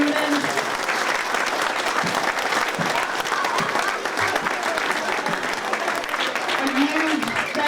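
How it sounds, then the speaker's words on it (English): Applause from an audience at a Martin Luther King Jr. ceremony in North Brunswick, a steady dense wash of clapping that holds at an even level throughout, with faint voices mixed in. "One round of applause for all our talented students."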